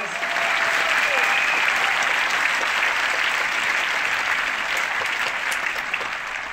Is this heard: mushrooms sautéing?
no